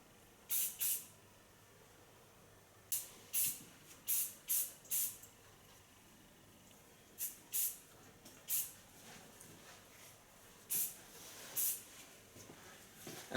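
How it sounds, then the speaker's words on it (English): Hairspray misted onto long hair in a salon from a can held at a distance: about a dozen short, bright hissing spritzes, some in quick pairs, separated by quiet pauses, close and clear over a faint room hum. "And fixate it with a slight stronger hairspray."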